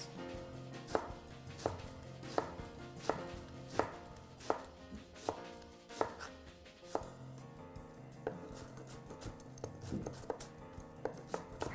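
Half an onion being cut into cubes with a knife on a board, with steady rhythmic close-up chops landing roughly twice a second, easing into lighter, quicker taps near the end.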